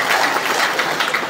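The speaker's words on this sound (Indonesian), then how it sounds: "Sekali lagi tepuk tangan buat Maria." Audience applause for Maria during a Social Affairs Minister's visit to Mamasa Regency, a dense, steady wash of many hands clapping at close range without a break.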